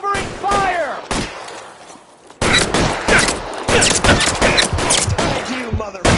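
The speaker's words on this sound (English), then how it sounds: "Covering fire!" Rapid gunfire crackles in the crime game L.A. Noire, loud repeated volleys of shots in close bursts after a brief pause, with shouted voices in between.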